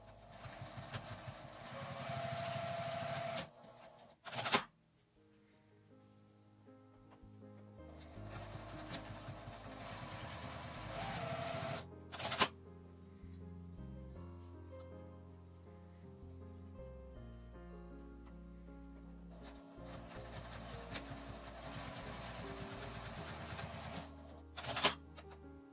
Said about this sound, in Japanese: 折り目に端ミシンをかけます。